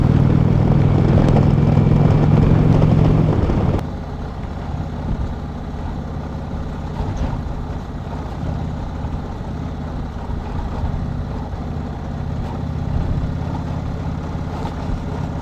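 An Indian Chieftain Limited motorcycle with heavier spoke wheels rides down a rough road: a steady, loud engine and road rumble runs throughout, slightly heavier for the first few seconds, with no talking.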